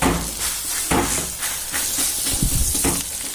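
Thalipeeth flatbread dough pressed onto a medium-hot griddle gives a steady bright sizzle and hiss, broken by a few soft pats and bumps, close and continuous with no voices.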